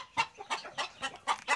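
Hens in a farmyard with nests, one on the ground looking to lay, give a run of five or six sharp, close clucks at an uneven rhythm, with nobody talking.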